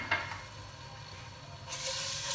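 Chopped garlic and ginger fry in oil in a pan for an egg kofta curry, giving a steady close sizzle with a brief stir near the start that grows brighter and louder toward the end.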